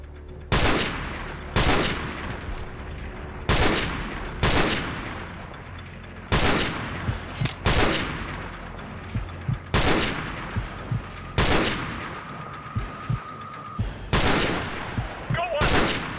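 Gunfire in Call of Duty 4: Modern Warfare: loud, sharp shots cracking out one after another at irregular intervals, each with a booming tail, while faint voices murmur underneath.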